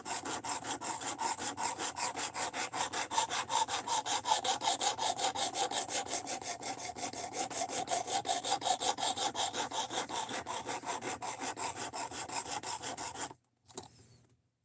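A rasp strokes rhythmically back and forth across a wooden edge to reshape it, with fast, even, scratchy passes held close and steady for about thirteen seconds before stopping with a final scrape.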